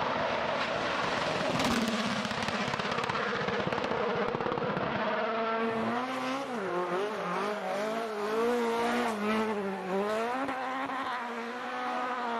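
Rally car engines whine and rev loudly, the pitch sweeping up and down as cars accelerate and shift past, with a rough roaring burst early on.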